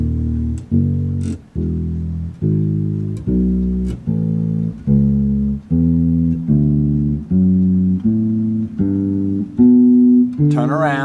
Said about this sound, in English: If we play all the way up and turn around and come back, it's going to sound like this.